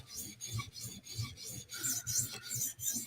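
Knife blade rasping in repeated backward strokes across a 400 grit sharpening stone, a steady close scraping rhythm of about a dozen strokes with no talk.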